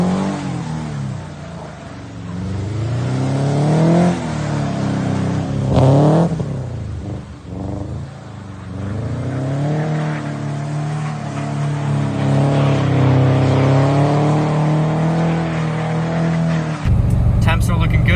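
A 2000 Subaru Impreza 2.5RS with a manual gearbox and a rebuilt engine drones steadily while cruising, with shifting revs and a voice talking over it throughout.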